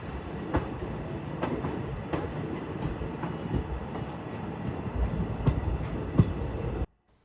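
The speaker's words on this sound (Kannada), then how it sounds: "ಫೈನಲಿ ರೀ ಬಾರ್ಡರ್ ಸ್ಟೇಷನ್ ಆದಂಥ ಅಟಾರಿ ರೈಲ್ವೆ ಸ್ಟೇಷನಿಗೆ ಎಂಟ್ರ್ ಆಗತ್ತೀವಿ." The Frontier Mail passenger train rolls into Attari border railway station, a steady close rumble of wheels on rails with repeated rhythmic clacks over the joints, continuous and loud until it cuts off abruptly near the end.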